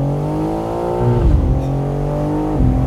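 A 2025 BMW M4 Competition downshifts, heard from inside the cabin: a loud, steady engine drone with a sharp rev blip partway through and a second blip near the end, with no talking.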